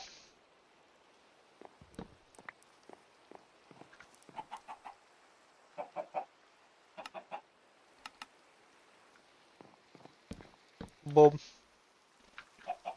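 Chickens on a small backyard plot give scattered, short clucks and squawks at close range, with a louder burst near the end, mixed with a person talking.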